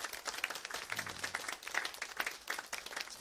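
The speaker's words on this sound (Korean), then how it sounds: "우리 박수로 한번." A church congregation claps during a Sunday worship service, with fairly faint, scattered, uneven hand claps and some murmuring underneath, lasting about three seconds.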